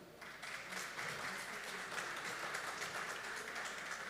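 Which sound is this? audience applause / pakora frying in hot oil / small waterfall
audience applause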